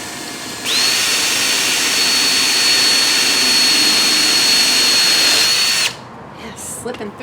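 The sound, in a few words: power drill drilling drainage holes in ceramic planter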